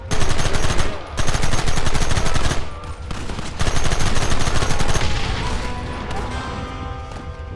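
A loud, close shootout in the western video game Red Dead Redemption: rapid bursts of gunfire crackle almost nonstop, with rattling volleys broken by brief gaps before the shots pick up again.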